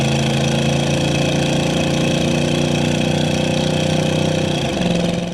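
A 1976 Chevrolet C10 pickup's 350 V8 runs loud and steady with a deep, even drone, the pitch shifting briefly near the end as the throttle changes.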